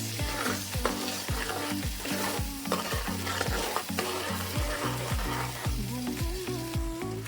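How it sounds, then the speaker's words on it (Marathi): Ground masala paste sautéing in oil for a Maharashtrian drumstick curry in black masala, a close sizzle broken by repeated scraping strokes of a spoon stirring at a steady rhythm, with no talk. "आपल्याला आता हे वाटण आहे ना तेलामध्ये तेल सुटेपर्यंत छान असं परतून घ्यायचं"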